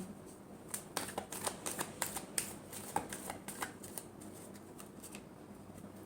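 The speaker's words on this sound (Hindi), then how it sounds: "Last shuffle." Tarot cards are shuffled by hand in quick, crisp riffling bursts, close and fairly quiet, with no talking.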